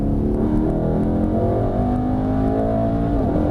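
A Mercedes-AMG E63 S Estate accelerates hard, its engine a loud, sustained roar climbing steadily in pitch from inside the car.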